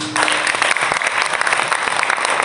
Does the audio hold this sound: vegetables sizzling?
no